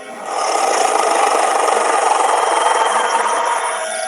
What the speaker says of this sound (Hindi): वह थोड़ी देर हैंडपंप चलाती है पर कोई नहीं आता।